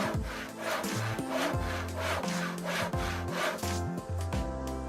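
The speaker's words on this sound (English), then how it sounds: "Now let's check out the sharpening process." A homemade knife sharpener with aluminum clamping plates works a knife blade in quick, rhythmic scraping strokes. Each stroke rasps close and clear, repeating steadily with no voices.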